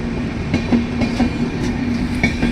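A train rolls along railway tracks near Udaipur station in Rajasthan, with a steady close rumble and a regular clickety-clack of wheels over rail joints. It runs continuously with no voices.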